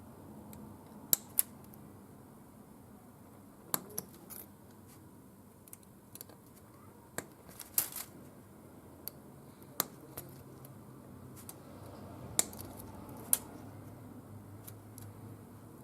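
Faint, sparse snips and clicks of a craft knife or scissors cutting clear glazing pieces from an N gauge station model kit sheet, isolated sharp ticks over a quiet background hiss.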